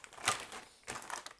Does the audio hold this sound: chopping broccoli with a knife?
no